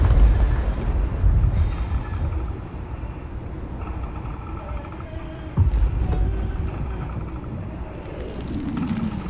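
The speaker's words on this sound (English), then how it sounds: "Yeah, the explosion of the tower." A tower explodes in the horror video game Amnesia: Rebirth. A heavy, low rumbling roar opens loudly and keeps churning, with a second thudding burst midway as the debris-like rumble continues. No voices are present.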